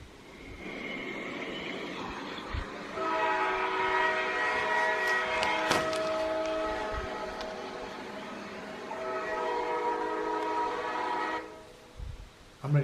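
Recorded sound of an approaching train played back inside a tunnel, a sustained rumble with horn-like tonal chords that swell, hold for several seconds and then cut off, followed by a few soft knocks.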